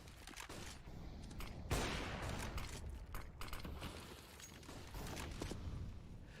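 Bursts of gunfire trade back and forth during a competitive CS:GO-style esports match between Izako Boars and c0ntact, a sharp volley standing out near the middle amid steady background game noise.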